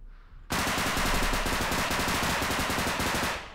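After a brief quiet moment, a loud machine gun in a bodycam-style video game opens up in one long continuous burst of rapid shots that lasts about three seconds.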